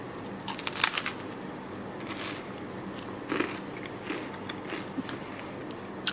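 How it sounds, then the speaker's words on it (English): Someone bites into crisp Wasa crispbread crackers, giving one loud crunch and then a few softer crunches and chewing sounds, close up with no talking. "So let's taste test these wassa crackers."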